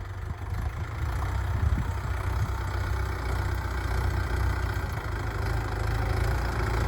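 A Mahindra 575 tractor engine idles steadily nearby, a low, continuous rumble with a slight knocking throb that holds constant throughout, with no voices.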